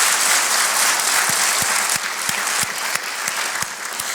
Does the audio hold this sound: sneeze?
no